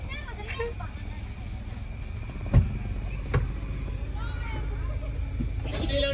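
A car engine hums low and steady while driving, with a couple of brief thumps partway through and faint voices in the background.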